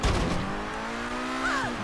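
A car in GTA 5 role play, engine droning at a steady pitch with a rising tire squeal near the end, up close and fairly loud for a couple of seconds.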